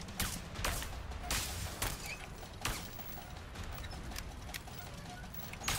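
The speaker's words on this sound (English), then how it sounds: "he's just standing there and shooting the lights out" Gunfire in the video game A Way Out comes as a string of sharp, separate cracks at irregular intervals over a faint background, with no talk.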